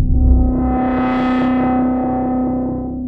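Effects demo in the Detonator Rage music software: a loud, sustained distorted synth tone with a filter that sweeps up and then back down, held steady throughout with no speech.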